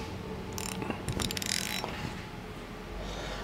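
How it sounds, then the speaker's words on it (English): A strap wrench is fitted around the reservoir of a KTM motorcycle shock, giving a brief cluster of close ratcheting clicks and scraping mechanical sounds that then fade to quiet. "Get our strap wrench on here."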